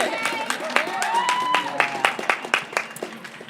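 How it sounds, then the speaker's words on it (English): A crowd at a pre-race show for the Western States ultramarathon claps in sharp, scattered bursts while voices and cheering carry over the top, the applause loose and uneven rather than a solid roar. "Give her a round of applause"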